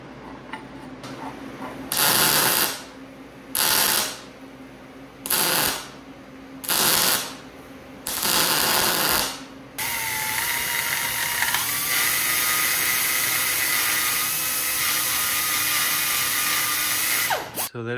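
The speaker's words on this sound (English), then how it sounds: "I'm gonna put some weld on this, grind it out" An angle grinder works over fresh weld on a part from a Bobcat T590 skid steer, cutting in with several loud bursts, then grinding without a break for about eight seconds close to the microphone.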